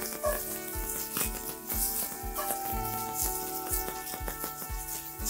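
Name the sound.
king oyster mushrooms sizzling as they are flipped in pan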